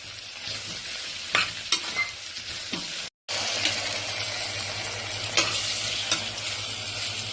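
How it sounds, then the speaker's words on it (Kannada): A bitter gourd gojju mixture is stirred in a hot pan, with steady scraping strokes over a continuous sizzle and frying crackle, close and fairly loud, broken by one brief gap. "ಇದೆಲ್ಲ ಚೆನ್ನಾಗಿ ಮಿಕ್ಸ್ ಮಾಡಿ"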